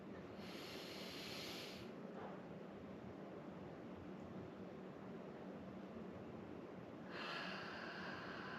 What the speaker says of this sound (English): exhale everything out using that victorious ujjayi breath